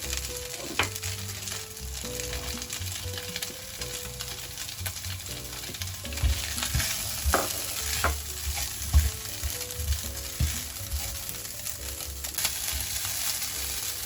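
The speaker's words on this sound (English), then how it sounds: "Frying the shallot." Steady oily sizzling with crackles and occasional stirring scrapes, close up, as shallots fry in a hot pan; no talking.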